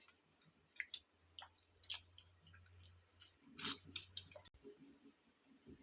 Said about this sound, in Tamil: 2 தக்காளியும் போட்டு பிணைஞ்சு எடுத்துக்கிடுவோம்.